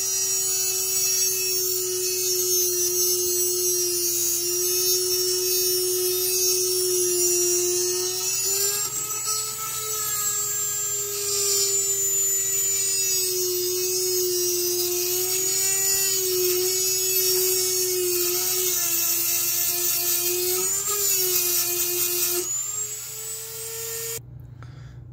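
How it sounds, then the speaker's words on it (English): Dremel spinning reinforced cutoff discs through 52100 bearing steel from a bearing race, a steady high-pitched whine with shifting pitch, loud and close, running continuously with no talking. "then I started cutting with my Dremel reinforced discs."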